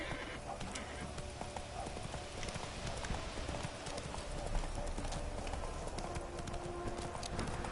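Roach the horse trots in The Witcher 3, a quick steady clip-clop of hooves close by, with a soft breathy snort amid the game's ambient background.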